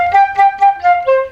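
A solo flute playing a short melody line, five clear, close, articulated notes in a quick rhythm, with the final note held a little longer, no talk.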